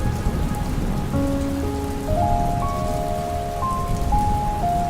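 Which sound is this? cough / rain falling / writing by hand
rain falling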